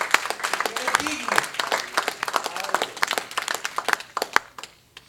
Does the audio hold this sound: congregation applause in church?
yes